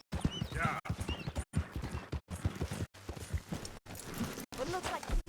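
Horse hooves clopping with a brief whinny in Red Dead Redemption, rhythmic clip-clop beats under a voice talking throughout, with short silent gaps between phrases.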